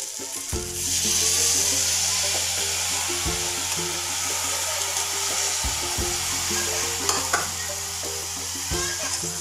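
Washed rice and dal hitting hot tempering oil for Khandesh-style khichadi, a loud, steady sizzle with repeated scraping knocks of a spoon stirring the pan.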